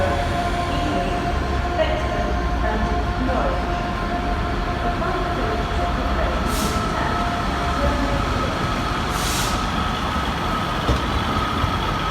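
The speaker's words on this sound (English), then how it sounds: "And there's the Worksop train for 1226." A train in a railway signalling video game, on the Newark Castle and Nottingham line, rumbles steadily past at close range, with a constant low drone and two brief hissing bursts partway through.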